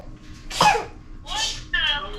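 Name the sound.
child fake coughing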